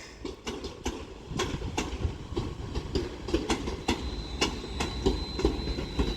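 London Northwestern Railway Class 351 unit 351/02 pulls into a station platform at Crewe: rhythmic clickety-clack of wheels over rail joints, with a thin wheel squeal and a rumbling approach.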